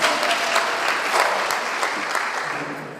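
An audience at an indigenous women's national conference claps, and the applause is loud, dense and sustained, with a steady wash of many hands that tapers slightly at the end.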